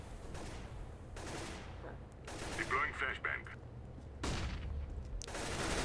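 Auto-sniper gunfire in the game CS:GO, several sharp spaced shots of a rifle cracking out at irregular intervals, with quieter game ambience between them.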